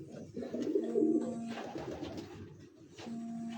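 Pigeons coo in low, soft, throaty bursts, a few overlapping calls close by against a quiet background.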